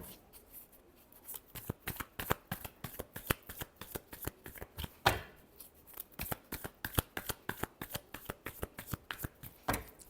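Tarot cards shuffled by hand in a steady run of crisp riffling flicks and slaps, close and fairly quiet, with no talking.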